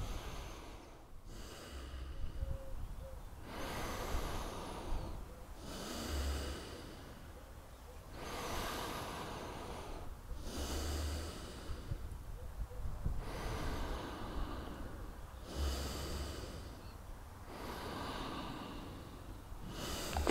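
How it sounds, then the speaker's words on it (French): Slow, deep, deliberately exaggerated breaths in and out during a morning exercise session, about eight long airy cycles in a steady rhythm, close and clear with almost no talking. "Donc vous pouvez exagérer un petit peu, comme je fais là. J'inspire, j'expire."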